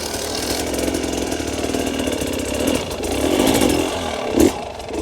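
Hard enduro dirt bike engine revving hard as a clutch pop breaks the rear wheel loose, a raspy buzzing drone that swells briefly near the end, close and loud with no talking.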